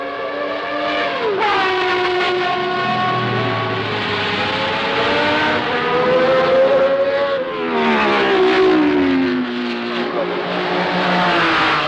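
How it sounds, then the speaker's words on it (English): Race cars at night during the 1973 24 Hours of Le Mans: a loud, continuous engine wail that rises and falls in pitch as cars accelerate and sweep past, with a constant crowd and carnival murmur underneath. "always the incessant wail of the cars knifing through the merriment"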